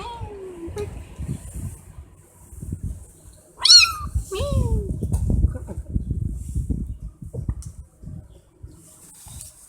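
Kittens, a litter of five, give several high, rising meows, some close and loud, some thin and faint, between stretches of quiet rustling and a person speaking.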